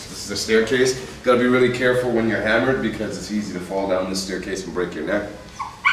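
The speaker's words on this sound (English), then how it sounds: "That's a dog that gets kept outside, keeps me up all night." A dog kept outdoors yelps and whimpers in short bursts somewhat in the background, running under steady close-up male speech throughout.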